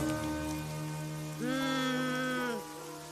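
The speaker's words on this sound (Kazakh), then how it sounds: "Жауын күшейіп келеді ғой." Rain falls in a Kazakh-dubbed My Little Pony cartoon as a steady patter, with sustained tonal, music-like sounds rising over it in the middle of the clip.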